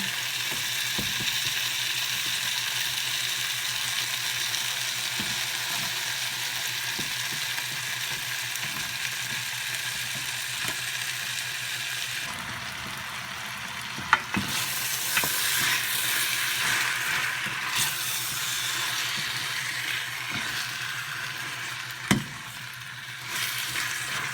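Chicken frying in a pan with softened tomatoes for chicken afritada, a steady loud sizzle throughout with a few faint utensil clicks and stirring knocks, no voices.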